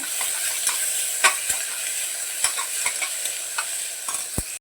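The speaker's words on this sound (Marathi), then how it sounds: "कांदा मस्त परतून घेते जरा" Chopped onion sautéing in a little oil in a pan: a constant loud sizzle broken by sharp clicks and knocks of a spatula stirring against the metal.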